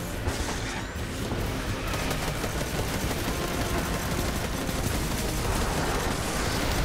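Dense, continuous gunfire and explosive blasts fill a shooter game battle in Destiny, including a rocket launch, loud and unbroken throughout.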